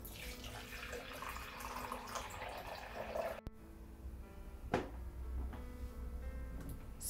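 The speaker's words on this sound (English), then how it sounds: "Pour the water." Faint water trickling and splashing as it is poured into the reservoir of a Bosch TKA3A034 filter coffee maker, with a small clunk midway and a quiet hiss throughout.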